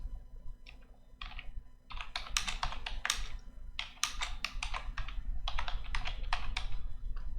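Fingers type on a computer keyboard while writing Python code: quick bursts of close, crisp keystrokes separated by short pauses, with no talking.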